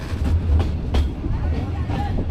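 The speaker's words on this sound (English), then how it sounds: "and our small meter gauge train." Metre gauge train on the Mavli–Marwar line: a close, rumbling run of wheels over rails with rhythmic clickety-clack thumps and a heavy low drone, continuous throughout.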